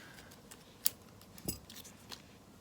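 A few sharp metallic snips of scissors cutting thread, spaced apart and close by, in an otherwise quiet room.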